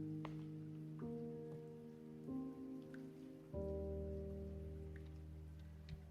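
Heavy rain falls as a steady, dense wash for about six seconds, layered under sustained tonal drones that shift pitch in a few distinct steps. No one speaks.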